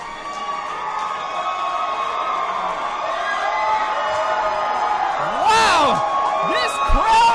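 Wrestling arena crowd roaring and cheering in an ovation for Matt Hardy, a loud sustained wall of voices with whoops and whistles rising near the end.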